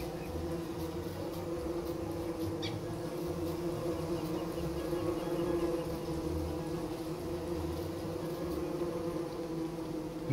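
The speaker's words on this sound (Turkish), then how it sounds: "Arılar çıktı." Bees swarm in the survival game Don't Starve Together, a continuous droning buzz holding steady and fairly loud throughout with no talk over it.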